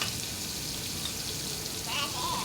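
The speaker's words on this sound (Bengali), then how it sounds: "পেঁয়াজটা ভাজা হয়ে গেছে" Chopped onions fry in hot oil for a farm-chicken khichuri, a dense, steady crackling sizzle heard close, with a slight stir or splash near the end.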